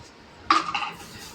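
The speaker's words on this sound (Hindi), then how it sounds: "भगवान जी के बर्तन धो रही है" A single clatter of metal pots and utensils used for worship being handled while washing, one sharp clank followed by a short ringing rattle, close and fairly loud with no talk.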